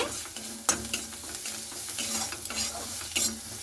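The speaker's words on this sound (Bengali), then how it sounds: "এরপরে খুব ভালো করে পেঁয়াজটার সঙ্গে এভাবে আমি নাড়াচাড়া করে নিচ্ছি" Sliced onions frying with salt and turmeric powder, stirred in a pan: a steady close sizzle with repeated scraping strokes of the spatula and a few sharper clacks against the pan.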